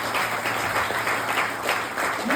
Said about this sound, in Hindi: एक बार जोरदार दिल से ताली।